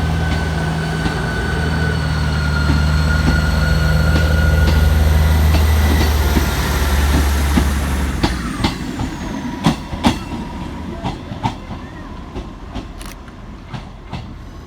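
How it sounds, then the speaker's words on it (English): A Northern Class 158 diesel unit, 158868, departs Saltburn station, its loud idling engine drone rising then fading as the train pulls away, followed by a string of sharp wheel clicks and clatters over rail joints. "Out next to depart B158868, working the 1359 Northern service through to Bishop Auckland."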